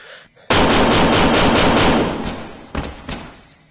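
Weapon fire in the Tactical Assault VR game: a loud, rapid run of sharp close shots lasting about a second and a half, then two separate single cracks as it fades.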